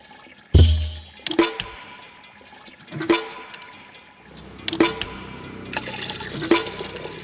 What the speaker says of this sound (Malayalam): പെട്ടെന്ന് ഒഴി, തല വരെ അങ്ങോട്ട് നിറയട്ടെ